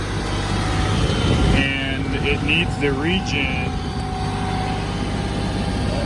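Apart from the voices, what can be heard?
Kioti CK3510 tractor tier 4 diesel engine running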